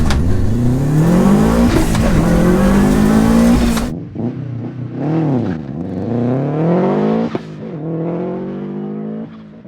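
A stripped-out 465 bhp Subaru Impreza WRX STI launches hard and accelerates to 60, a loud engine roar climbing through the revs, then after a sudden cut rising again through several gear changes, no voices.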